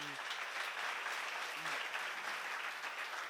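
Steady applause fills a church congregation during a sermon, a dense even wash of many hands clapping at moderate level while a preacher's voice breaks through briefly.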